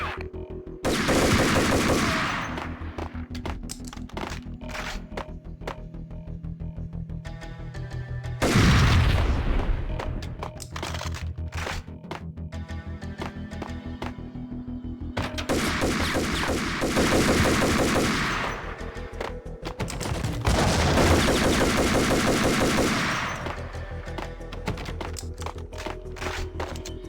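Gunfire from the 2001 game Max Payne comes as loud, dense bursts of rapid automatic shots and booming blasts, several long volleys separated by short lulls.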